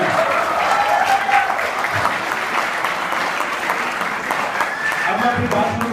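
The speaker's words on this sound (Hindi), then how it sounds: "एक बार जोरदार तालियां।" An audience breaks into loud, sustained clapping that holds steady for several seconds, a full crowd applauding without pause, with a few faint voices mixed in near the end.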